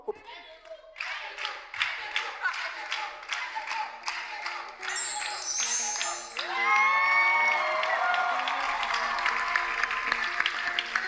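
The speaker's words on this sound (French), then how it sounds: "On peut encore applaudir le sponsor Move It." Studio audience on a French-language TV dating show applauding the sponsor: a sustained wash of clapping and cheering from a crowd, steady and loud, with a brief high whistle-like cheer partway through and no speech over it.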